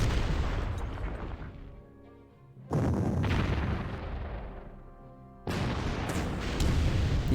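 Heavy artillery fire in the strategy game Panzer Corps during an urban warfare battle: three loud booming blasts, each followed by a rumbling decay that fades toward quiet before the next shot lands.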